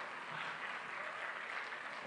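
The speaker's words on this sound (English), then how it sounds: "that line has never gotten applause before" Keynote audience at the Pangkor Dialogue 2017 breaks into applause, a brief, even wash of many hands clapping, moderately quiet and heard alone without talk.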